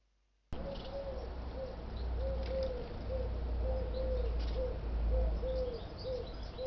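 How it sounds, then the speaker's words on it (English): A collared dove sings a repeated series of soft, rhythmic cooing notes at a steady pace over constant outdoor background noise, moderately close and with no talking. "By comparison, here's the collared dove song for you."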